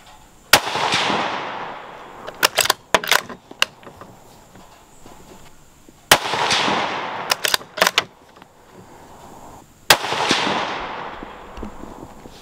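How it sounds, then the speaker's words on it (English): Three loud rifle shots of steel-cased ammunition fired outdoors, each a sharp crack with a long decaying echo, spaced several seconds apart, with small clicks and handling noises between them. "Alright, there's the three shots."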